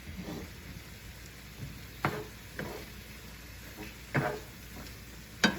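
Fried rice sizzles in a hot pan while a utensil scrapes and stirs it, with a few sharper clanks against the metal at irregular intervals.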